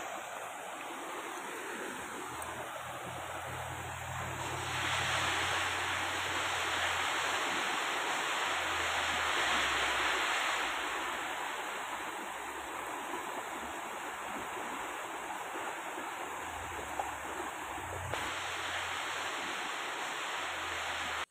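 Cool river water flowing steadily along the Ohot River, a continuous broadband rush that swells louder in the middle stretch, with a faint high whistle-like tone running through much of it; no talking.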